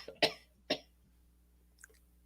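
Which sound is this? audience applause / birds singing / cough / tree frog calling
cough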